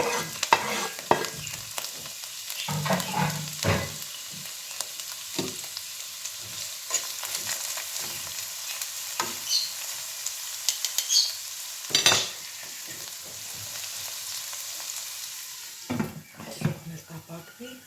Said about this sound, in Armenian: Մինչև սոխը տապակվի